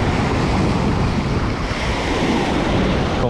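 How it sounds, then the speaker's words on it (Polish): Calm Baltic Sea waves on a sandy beach near Darłowo, heard as a steady, loud wash of surf mixed with wind rumble and no voices. "Takich fal oczekiwaliśmy, takich spokojnych, a nie takie jak były przez dwa dni."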